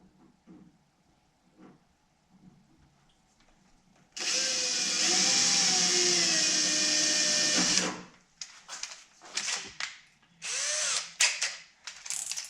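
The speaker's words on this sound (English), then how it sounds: "So let's get this pilot hole and get this drilled out." A power drill whines loudly and steadily for several seconds while boring a pilot hole in a Dodge Charger's hood, then stops, followed by scattered handling noises and brief drill bursts.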